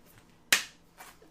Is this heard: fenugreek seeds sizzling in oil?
no